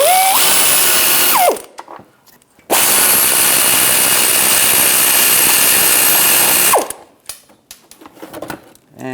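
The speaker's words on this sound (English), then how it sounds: "Use a 15mm socket, take them out." A 15mm socket on a power driver backs out splash shield fasteners under a 1999-2006 Chevrolet Silverado 1500, with two long loud whirring runs split by a short pause, then quieter rattling and handling.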